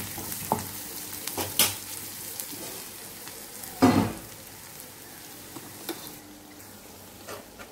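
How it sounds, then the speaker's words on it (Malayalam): Hot fried mustard seed tempering is poured into a Kerala-style spicy beef curry and sizzles with crackling and spitting, flaring briefly into a louder burst of hiss before settling into a soft, steady fry. "ഇപ്പൊ ഞാൻ കടുക് വറുത്തത് ഇതിനകത്തിൽ ഒഴിച്ചു കൊടുത്തിട്ടുണ്ട്."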